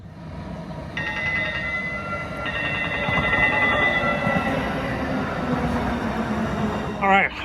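A train approaching from a distance, a steady rumble with drawn-out tonal squealing or horn-like notes rising over the background, building gradually.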